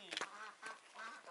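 Ducks quack in a village setting in autumn: a few short, fairly faint calls, one cluster near the start and two more spaced out afterwards.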